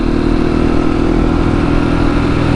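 A KTM 701 supermoto-style motorcycle engine running steadily close by, a loud, dense mid-pitched rumble with even throbbing and no speech.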